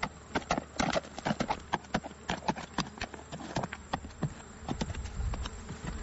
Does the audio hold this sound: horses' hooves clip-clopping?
yes